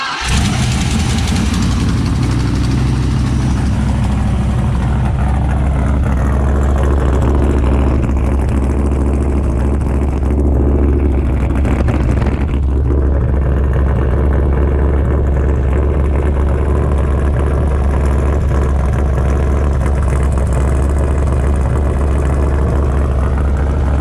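A car engine idles and revs loudly through a cheap homemade Mad Max-style exhaust, a steady rough drone with a rise in revs partway through, heard alone and close up.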